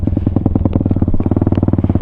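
A Venom Thunder 125 dirt bike engine chugs at low idle while creeping through mud, a loud, close, steady rapid thumping pulse with a slight clattery edge.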